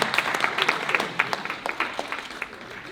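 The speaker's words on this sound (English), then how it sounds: "Please welcome Reverend Jackson with a big round of applause" Audience applause welcoming Reverend Jesse Jackson onto the stage at a Rainbow PUSH fundraiser, heard as moderate, slightly distant clapping with distinct individual claps, tapering somewhat toward the end.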